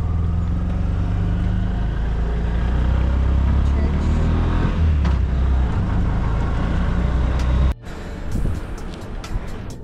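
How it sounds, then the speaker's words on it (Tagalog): A motorized tricycle cab engine idles and rumbles steadily nearby in hot street conditions, with voices talking over it; a brief drop near the end before the running resumes. "Nakakuha na kami ng tricab."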